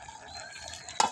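A pot of freshly picked bottle gourd greens being cooked is stirred, giving a faint soft scraping and simmering sizzle that ends in one sharp, louder clack of the spoon against the pot.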